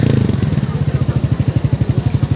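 A motorcycle fitted with a Zaporozhets car engine runs loud and close, its engine beating out a rapid, even pulsing rhythm as it revs.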